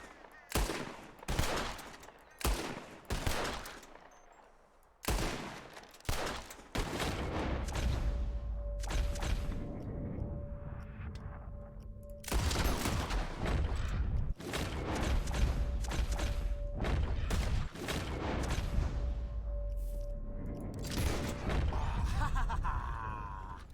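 Gunshots from Red Dead Redemption 2 as players shoot birds out of the sky, a rapid burst of sharp cracks at first, then repeated loud shots over a continuous game background with occasional voices.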